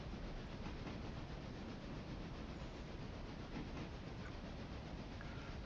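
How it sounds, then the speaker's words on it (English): A passenger train in the game Railroader rolls downgrade toward a town, a steady broadband rumble of rail noise and wheel hiss that holds evenly throughout, fairly quiet with no voices. "eastbound passenger train is just about to descend the grade into a town with a really complicated name"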